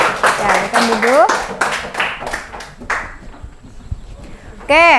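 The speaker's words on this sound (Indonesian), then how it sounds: "beri tepuk tangan untuk kelompok sawah" Students in a classroom clap for a group after its presentation, a short burst of hand claps mixed with a teacher's voice talking over and between them.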